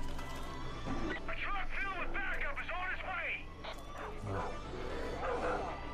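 Dog barking in the video game Far Cry 5, a rapid series of sharp yips and barks over game music and noise, with someone talking over it at times.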